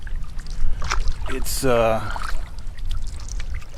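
Paddle strokes and water swishing around a solo canoe, roughly 15 feet long, in the Boundary Waters wilderness, a couple of splashy pulls under steady nearby talk.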